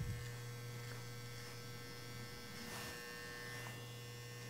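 Larger electric hair clipper fitted with a 1.5 blade trimming a taper at the back of the head, a steady low buzzing hum running close and even throughout.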